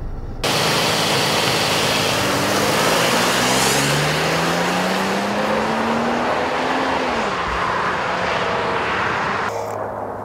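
A 2015 Toyota 4Runner TRD Pro accelerates hard from 0 to 60 mph, its engine note rising steadily and loudly through a long pull before easing off near the end.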